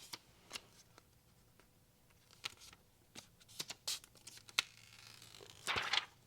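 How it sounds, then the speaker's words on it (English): A thin template being peeled off a screen protector for a 2024 Mazda CX-5 display, heard as sharp crackling and tearing plastic sounds close by, with scattered ticks building to a louder crinkling peel near the end. "So to keep that in mind when you're peeling off your template."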